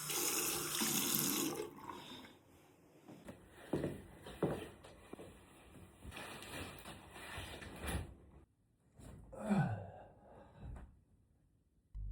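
Hot shower water runs in a guesthouse bathroom in Chefchaouen, starting as a loud steady rush for a couple of seconds, then continuing more softly with intermittent splashes and bursts, briefly dropping away near the end.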